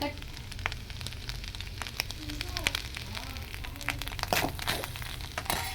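Fresh grated coconut with jaggery fries in a pan on low heat for a sweet, giving a soft ongoing sizzle with scattered crackles and pops against a low background hum.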